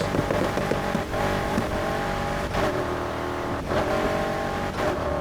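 A deep, throaty muscle car engine in the video game Need for Speed Heat roars steadily at high revs, loud and close, with brief dips as gears shift.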